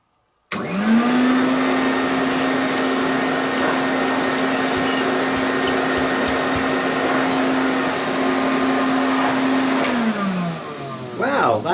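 A Hoover Constellation 867A vacuum cleaner switches on and runs loudly and steadily for about ten seconds with a strong motor whine, then winds down at the end.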